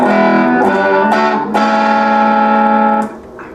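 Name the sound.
clean electric guitar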